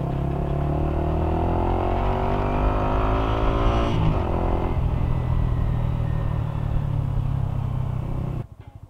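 A Yamaha XSR155 motorcycle with a remapped ECU revs hard in second gear, a loud, steady engine roar climbing in pitch, then cutting off abruptly near the end.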